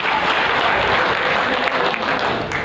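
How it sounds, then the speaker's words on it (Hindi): A crowd outside the Raj Bhavan in Lucknow claps at a political gathering, dense, continuous applause that stays loud and even throughout. "भी ताली बजाइए।"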